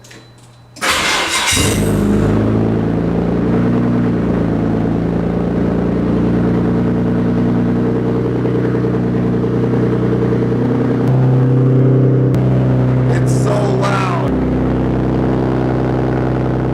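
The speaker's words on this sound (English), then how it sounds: "I do want to start the car real quick and make sure the gauges work" A Nissan Skyline R32 engine cranks briefly and catches, then settles into a steady, loud idle with a low rumble that holds for many seconds, a faint clatter near the end.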